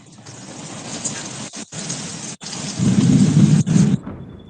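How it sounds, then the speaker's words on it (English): A severe thunderstorm in Ohio or Michigan during a tornado outbreak: steady rain hisses while deep thunder rumbles build and swell louder toward the end, broken by brief gaps. "I tell you what, Maz, that was a big time storm that rolled through."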